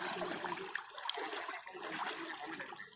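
Water from a waterfall pours steadily in a broad, constant rush, fairly close and unbroken for the whole stretch, with no voices over it.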